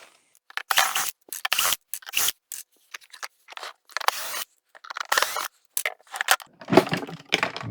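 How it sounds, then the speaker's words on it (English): Screws being removed and parts handled while taking apart a Zelmer Odyssey vacuum cleaner, heard as a close series of short scraping, clicking and rattling bursts with brief pauses between them, with no talk. "Let's pull a few screws out and see if we can get it apart."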